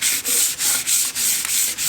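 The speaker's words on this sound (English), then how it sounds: "that's a 240 grit sandpaper, so that's the sort of effort you want to be putting into sanding" An English oak cupboard panel is hand-sanded with 240 grit sandpaper in quick, even back-and-forth rubbing strokes, about six of them, close and crisp with no talk.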